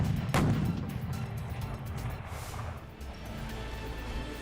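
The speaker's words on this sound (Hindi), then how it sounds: "रूस के सैनिकों ने भी यूक्रेन के खिलाफ होवित्जर तोप का इस्तेमाल किया।" Russian troops firing a howitzer at Ukrainian forces: one heavy booming blast early on, then a long rolling rumble that lingers and slowly settles.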